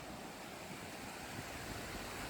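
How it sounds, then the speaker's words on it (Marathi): Rainwater rushing down a village road after unseasonal rain, a steady broadband wash of flowing water that holds constant and fairly close throughout, with no voices. "त्या रस्त्यातनं सगळं पाणी निघून चाललंय"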